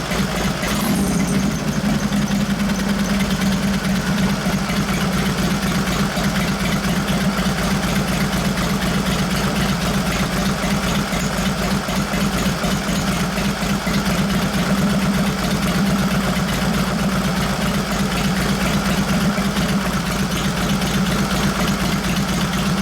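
A 1989 Harley-Davidson Softail with a 93ci panhead engine and Mikuni HSR42 carburetor idles continuously, a loud, steady low rumble with uneven loping pulses, heard close throughout without speech.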